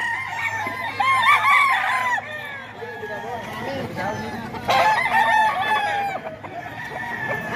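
Gamefowl roosters crow loudly and repeatedly at close range in long rising-and-falling calls, with scattered clucking and other birds in the background.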